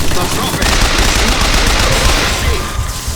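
Rapid, dense gunfire fills a combat scene in the video game Bioshock Infinite, a loud continuous burst of shots with a rumbling low end lasting the whole moment.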